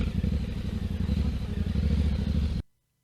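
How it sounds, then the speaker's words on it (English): An adventure motorcycle engine chugs at low revs while climbing a short steep off-road slope slowly without momentum, a loud, close, steady throbbing idle-like rumble that cuts off abruptly into silence. "Just listen to the motorbike sound."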